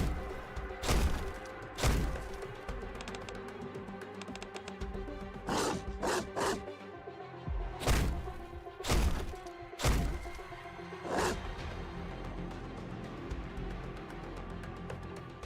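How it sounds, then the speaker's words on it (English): Zombies shaking and banging a door in a Nikke x Resident Evil crossover game, a string of heavy wooden thumps and rattling knocks at irregular intervals, some in quick bursts, with a low rumbling backdrop. "The violently shaking door finally stops."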